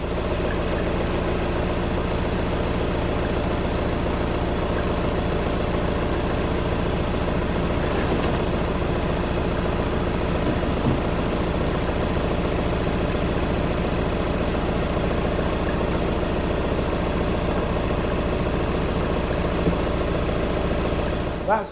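A 2-litre TDI diesel engine in a Skoda Yeti idles steadily after a fuel filter renewal, a constant low rumble with an even mechanical clatter that holds unchanged for the whole stretch, with no talking.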